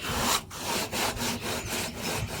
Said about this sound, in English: if I've got my hand in here scrubbing, I'm actually getting a little bit more behind the scrub so I can get it cleaner